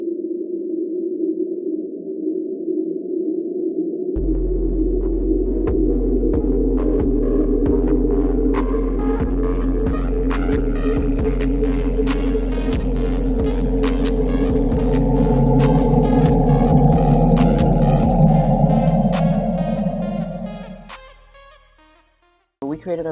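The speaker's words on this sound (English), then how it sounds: "what you are hearing right now is a sonification of the Mandelbrot set" Synthetic sonification of the Mandelbrot set fractal: layered, alien-sounding sustained tones with a deep throbbing bass that enters after a few seconds, shifting pitches and clicks, swelling then fading out near the end.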